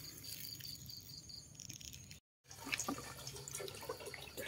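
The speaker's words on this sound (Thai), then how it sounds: "ล้างผักไว้ให้เรียบร้อยก่อน" Vegetables washed under running water in an outdoor kitchen at dusk, a steady faint trickle with small splashes and drips, while crickets chirp in the background and a brief silent gap breaks it midway.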